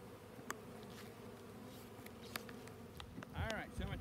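Honeybees buzzing around a dark Carniolan queen in an open hive, a steady low hum with a few close insect passes swelling near the end.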